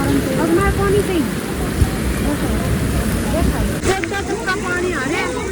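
Floodwater rushes steadily through a flooded street in Haridwar, a dense, loud wash of churning water that runs throughout, with voices and a passing vehicle underneath.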